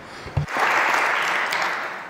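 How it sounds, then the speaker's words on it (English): Audience applause at a tech conference talk, a burst of clapping that swells quickly and holds steady for about two seconds, following a brief spoken cue. "Applause, please."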